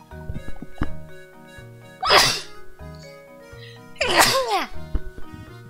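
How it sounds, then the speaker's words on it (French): Two loud sneezes, about two seconds apart, in the video game Professor Layton and the Curious Village, over a quiet musical background with soft tonal sounds and light clicks. "Je vais éternuer."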